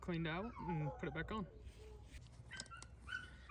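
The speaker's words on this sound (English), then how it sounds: "Sorry for the dog in the background." A dog whimpers and yips in the background while someone talks about a generator repair, the high thin dog cries coming faintly and intermittently under and after the speech.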